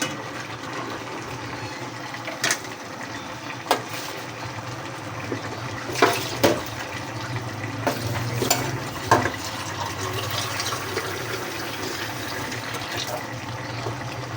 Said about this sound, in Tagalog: Lalagyan po natin ng mga 1 cup ng tubig.